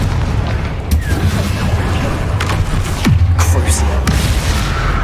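A Confringo blast spell from the video game Hogwarts Legacy goes off as a booming explosion over a dense, loud game soundscape, with further sharp bursts and rumbling impacts following close behind.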